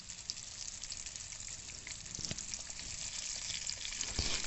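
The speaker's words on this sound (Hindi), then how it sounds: "ऑयल पहले ही मैंने गर्म कर लिया था, तो इसके अंदर मैं ये कबाब रखती जाऊँगी" Chicken shami kababs fry in hot oil, a soft continuous crackle and sizzle that grows gradually louder, with a few brief taps and clicks near the pan.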